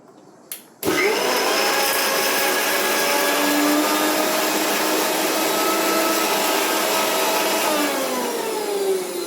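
After a brief click, a kitchen mixer grinder starts and runs continuously at a high, steady whine, grinding a spice paste with water, loud and close with no talk.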